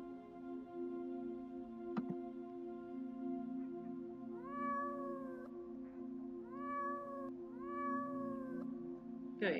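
A cat meows three times in drawn-out, rising-and-falling calls spaced a couple of seconds apart over a steady low hum, with a sharp click just before them.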